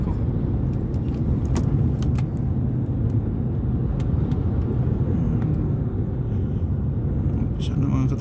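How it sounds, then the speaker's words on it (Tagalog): Road traffic in Rotterdam, Netherlands, a steady loud wash of passing cars and engine rumble close by, with occasional clinks, continuing under a voice talking. "umpisa ng traffic"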